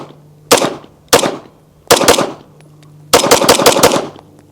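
Gunshots from an unported Staccato P Heritage pistol, loud and close: single shots, then a pair, then a rapid string of about five to six, each sharp crack trailing off into echo.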